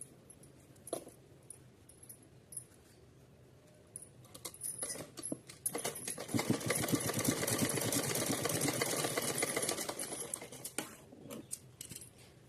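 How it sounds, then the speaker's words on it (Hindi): Sewing machine running a second reinforcing line of stitching on a small outfit for a Kanha ji idol: faint handling clicks at first, then a rising, steady mechanical whir with rapid ticking for several seconds before it tapers off. "चलिए तो इस पर हम एक बार और सिलाई लगाएंगे"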